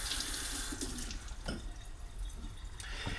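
Running tap water splashes steadily as green onions are rinsed under a kitchen faucet, a continuous close hiss with small bursts as the stalks move through the stream.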